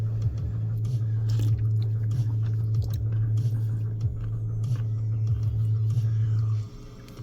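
Someone eats Nissin Tangy Tomato cup noodles with crisp vegetable pieces. Close chewing and biting sound through a steady low hum that stops near the end.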